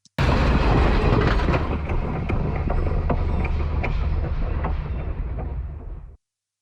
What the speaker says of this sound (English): as the train passes by, I'll roll the high frequencies off and it'll record that move.